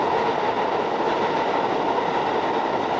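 A New York subway train roars along the track in a loud, steady, continuous rumble with a rushing rail noise and no voices.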